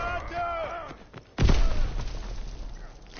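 An enemy bomb detonates in a console war shooter: a sudden loud blast rips in midway and rolls into a long rumbling decay, after a spoken radio-style voice warning beforehand.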